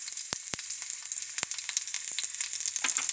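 Bitter melon frying in a pan, a bright constant hiss of hot oil with a few sharp pops and clicks as pieces are turned over, close and without talk.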